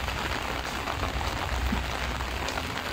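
Steady, dense broadband hiss of heavy rain from a typhoon falling hard on surfaces, continuous and even throughout with no voices.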